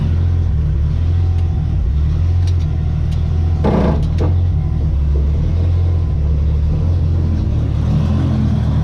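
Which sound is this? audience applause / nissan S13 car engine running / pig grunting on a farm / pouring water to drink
nissan S13 car engine running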